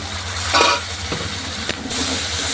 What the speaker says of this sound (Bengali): মশলাটা কষিয়ে নেব। মশলা তো তেল ছেড়ে দিয়েছে